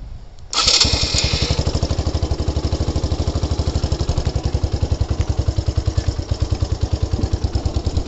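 A Suzuki Marauder 125 motorcycle engine catches and settles into a fast, even putter at close range, a loud steady single-cylinder thump with a light mechanical clatter and no talk.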